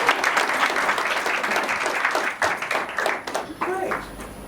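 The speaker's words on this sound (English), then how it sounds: "Please give a round of applause." Audience applause at a pageant for its mentor, a burst of dense crowd clapping that tapers off, with voices audible over the end.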